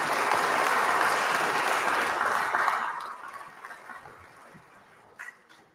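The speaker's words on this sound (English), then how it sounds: "I want to give you guys a hand clap for y'all being here tonight" A steady patter of hand clapping carries on at moderate loudness for nearly three seconds, then thins to scattered faint claps and a few sharp knocks near the end.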